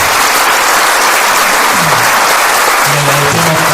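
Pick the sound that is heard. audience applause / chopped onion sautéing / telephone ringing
audience applause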